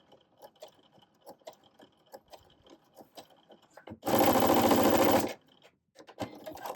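A sewing machine stitches a clutch purse in one loud, close burst of about a second and a half, preceded and followed by quieter handling clicks and taps.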